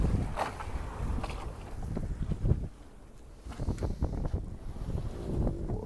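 A sailboat under sail off Hong Kong Island, carried along by the wind instead of burning fuel. Steady wind buffets the microphone while water rushes and slaps along the hull, loud and close, with no one talking.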